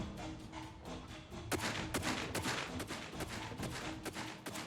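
A gun in The Outer Worlds 2 fires a rapid series of sharp, close shots, roughly a dozen cracks in quick uneven succession over a low game background, with no talking.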